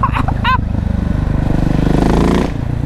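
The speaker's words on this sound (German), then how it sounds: "Also ein Powerparts-Auspuff, der haut schon ordentlich was raus." KTM SMC R 690 motorcycle with a Powerparts exhaust revving, a loud throbbing single-cylinder pulse that swells to a peak around two seconds and then drops back, close by with a brief voice early on.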